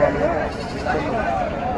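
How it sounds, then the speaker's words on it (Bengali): A goat bleats a couple of times amid steady background chatter and crowd noise at Dhelapir livestock market, the calls short and moderately loud. "এটা ছাগলটা কোন জাতের"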